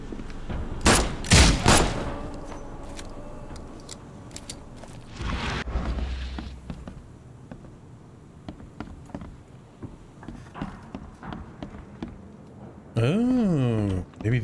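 Gunfire in the video game The Sinking City: a few loud close shots open the clip, followed by a scattering of smaller cracks and thuds, with someone talking over parts of it.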